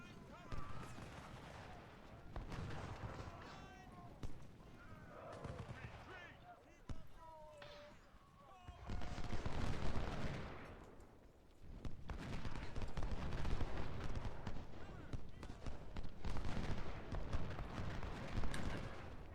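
Scattered gunfire from units shooting in a Civil War strategy game, with sharp cracks and volleys, some close and some distant, building to denser rolling fire, while someone talks over it.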